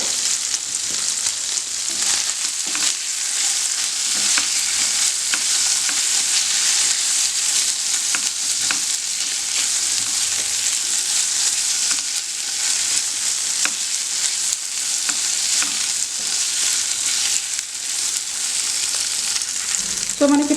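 Paneer pieces frying in a pan with kasuri methi give a loud, unbroken sizzle that lasts throughout, with faint occasional stirring clicks, close up and with no talking.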